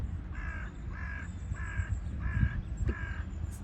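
Five evenly spaced harsh caws from a crow beside a canal, fairly close and clear over a low outdoor rumble, with a faint extra call at the end.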